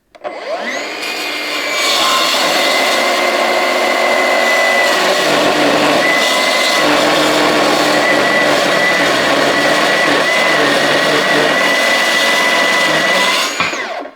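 A cordless 18V chip saw cutter slowly slicing through steel gives a loud, steady high-pitched whine with grinding metallic overtones. The sound holds for about twelve seconds after spinning up, then cuts off abruptly.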